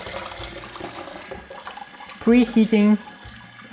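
Warm water, tinted blue, poured from a film processor into a sink while developing film, heard as a brief splashing gush beneath a person talking.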